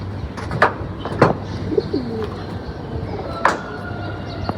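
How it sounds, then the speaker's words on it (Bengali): Outdoor birds with a few soft, low pigeon coos among scattered chirps and brief rustling clicks, fairly distant, against a steady low hum. "ওই দেখা যেতেছে কিছু কবুতর"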